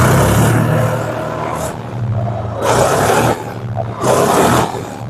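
A tractor offered for sale near the Kairana-Jhinjhana bus stand in Shamli is started and runs. Its engine gives a rough, steady drone that swells into three loud revving surges, close to the listener.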